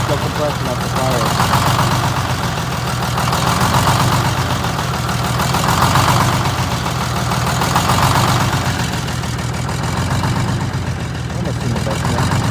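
A GM 4104 bus with a Detroit Diesel 6-71 engine idles with a steady, loud diesel drone and an uneven, knocking rhythm from a misfiring cylinder, running continuously throughout.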